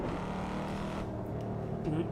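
Race car engine in Assetto Corsa revving steadily, held loud and close throughout, with a brief dip and change in tone as the throttle lifts for a clutchless upshift before pulling again.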